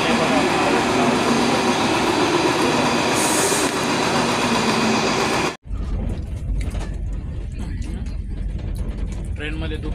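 A train moves through a railway station with a loud rumbling roar and squealing wheels. It cuts abruptly to quieter platform ambience with clattering and murmuring voices in the background.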